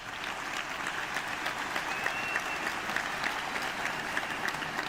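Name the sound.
audience applause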